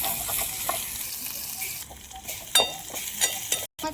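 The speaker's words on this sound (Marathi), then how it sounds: "आता टाकतो लसण. लसण परतून घेऊ." Garlic frying in a tempering for ghol bhaji, a soft steady sizzle with a few clinks and scrapes of stirring, close by, ending in a brief cut.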